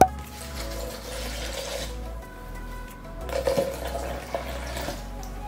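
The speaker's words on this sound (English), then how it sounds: "Just gonna add 2 cups of water." Water pours into a container of oats, a continuous gurgling stream with a soft splash partway through, heard up close.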